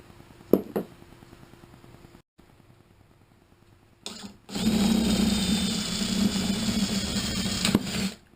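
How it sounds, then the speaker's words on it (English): A router shapes the edge of a wooden deck board, starting with a sudden loud, steady high-pitched whine that runs for several seconds near the microphone after a few brief knocks and quiet moments. "I'm going to run the router around this, make the edge nice and pretty"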